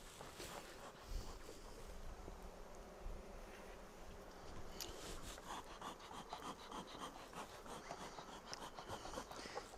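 Swarm of bees in a hive, a continuous soft buzzing drone from many insects, close but quiet, mixed with faint rubbing and handling of wood.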